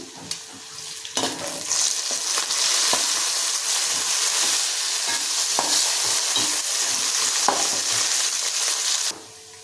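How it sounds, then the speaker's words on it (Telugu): Sliced onions and curry leaves fry in hot oil in a pan for chicken mandi, giving a loud, steady sizzle with scattered stirring clicks that runs unbroken for about nine seconds before cutting off abruptly. "ఇవి కూడా కొంచెం కలర్ మారేంత వరకు కూడా వేయించుకుందాం."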